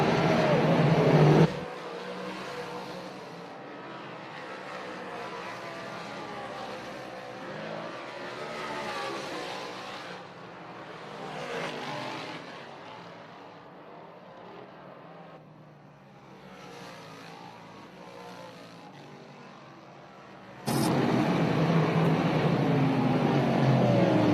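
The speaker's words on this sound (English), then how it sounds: "Those are the cars out here in group number 2 for modified hot laps." Modified race cars run hot laps at All-Tech Raceway short track, a sustained engine roar that swells and fades as they circle, loud near the start and end with a quieter, distant stretch in between.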